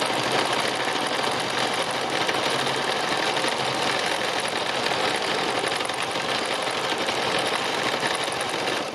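Sewing machine running fast and continuously during free machine embroidery, a dense, even mechanical whir and rapid needle chatter that stays close and loud throughout with no talk.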